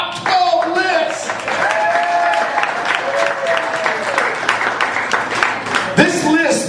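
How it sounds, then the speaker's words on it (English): An audience at a retirement roast in a pub applauds, a full burst of clapping that carries over talking voices in the room, with a sharp bump near the end. "give me a round of applause for my top 12 list."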